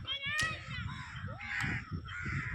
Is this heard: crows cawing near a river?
yes